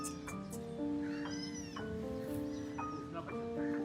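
A stray mother cat meows repeatedly in short, pleading cries, close and clear, with faint voices talking in the background.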